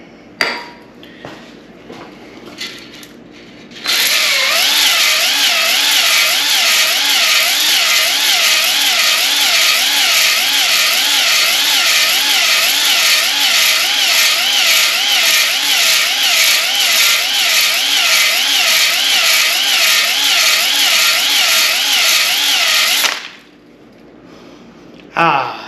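An electric drill runs hard for about twenty seconds while honing the cylinders of a big block Chevy GM 8.0 engine block, giving a loud, continuous whine with a pulsing wobble as the hone strokes up and down.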